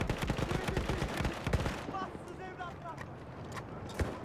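A heavy machine gun in Battlefield 1 fires a dense, fast burst of loud shots, then stops as metallic reloading clicks follow, with a voice talking over parts of it.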